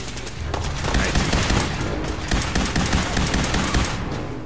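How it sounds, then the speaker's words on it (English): Rapid automatic gunfire in the video game Fallout 4, a dense loud burst of shots running for several seconds with brief gaps, combat sounds layered throughout. "Wildly shooting and wildly missing everything."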